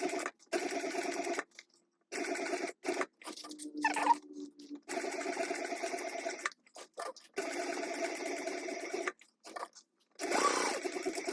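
A sewing machine runs in repeated bursts of steady stitching, stopping and restarting several times as it topstitches across the top of a fabric wristlet, close and clear.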